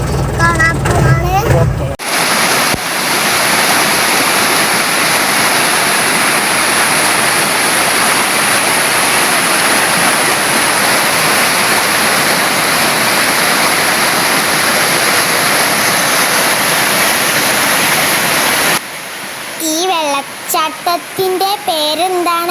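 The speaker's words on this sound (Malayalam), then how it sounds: "ചെറിയൊരു വെള്ളച്ചാട്ടവും ഞങ്ങൾ കാണും." Small waterfall flowing over rocks near a resort in Kalikavu, Kerala, producing a loud, steady broadband rush that fills most of the clip, with people talking briefly before it and again as it ends.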